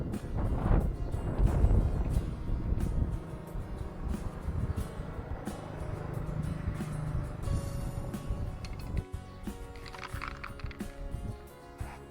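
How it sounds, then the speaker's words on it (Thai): Strong outdoor wind roars and buffets the microphone with a constant rumble while a fixed-gear bicycle is being spray painted; later a few faint hissing and tapping sounds poke through. "ลมแรงไปหน่อยนะฮะ"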